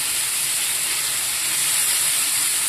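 Lote fish dropped into hot frying spices for lote macher jhuro, producing a loud, continuous, bright hissing sizzle that stays steady and close throughout, with no talking.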